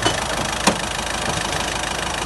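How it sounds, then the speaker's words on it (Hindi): The engine of a Ford EcoSport idles in a steady, even mechanical hum with a single brief click partway through, heard alone without speech. "ये देखिए इंजन बिल्कुल स्मूथ, बिना किसी नॉइज़ के बेहतरीन साउंड के साथ, एक नंबर इंजन है सब।"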